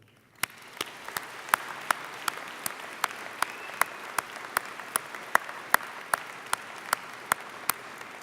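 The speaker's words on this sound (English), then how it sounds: "Graduates, please give a round of applause for those who have supported you through this academic journey." An audience at an engineering faculty convocation applauds with a steady wash of clapping, and crisp, regularly spaced claps from someone close stand out above the crowd.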